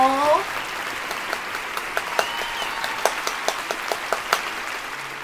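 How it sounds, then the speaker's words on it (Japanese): A single person claps hands in a steady series of distinct, fairly close claps after a short vocal note, with a faint background hiss. "もうこんなお母さん方に私は拍手をしちゃいますよ"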